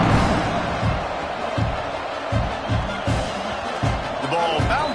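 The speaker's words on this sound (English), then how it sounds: "this crowd is buzzing after that last score" Football stadium crowd buzzing after a score in a championship game, a steady roar of massed voices that swells in waves, with a commentator's voice over it.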